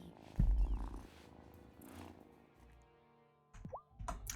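A cat purring in the farming game Wylde Flowers, a soft low rumble with a few brief plopping game sounds, heard alone with no talk.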